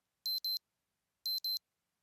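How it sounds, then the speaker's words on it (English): A kitchen timer alarm goes off with two pairs of quick, high-pitched beeps about a second apart, close and clear in a quiet room with no talking. "There you go, the timer has gone off."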